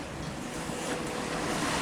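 Sea waves strike the side of a reefed sailboat between Guadeloupe and Dominica, heard as a continuous rushing, hissing wash mixed with wind, steady and moderately loud.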